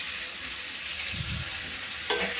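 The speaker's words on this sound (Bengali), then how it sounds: "তো দেখো এখানে কাঁচা লঙ্কা পেঁয়াজটা ভেজে নেব।" Green chilies and onions fry in a pan with a steady, soft sizzle throughout, joined by brief stirring scrapes and a sharper clatter near the end; no one speaks.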